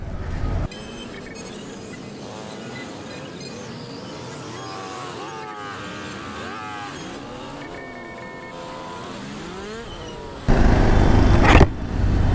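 Bajaj Pulsar 150 matte black motorcycle engine ridden through traffic during its break-in period, a steady droning hum with shifting tonal whine, joined near the end by a loud burst of wind or passing noise.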